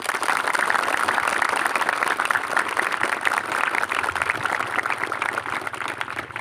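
Sustained applause from a group of junior high school students at a marching drill practice, steady dense clapping throughout, loud and close with no talk over it.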